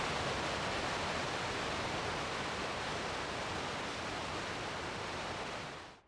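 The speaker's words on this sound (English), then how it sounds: "you will reach the Hov waterfall" The Hov waterfall on the Fossestien trail roars as a steady, dense broadband rush, loud and close, with no voices, easing off only at the very end.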